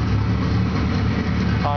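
A turbocharged Chevette engine runs steadily at idle, loud and close, with a voice coming in briefly at the end.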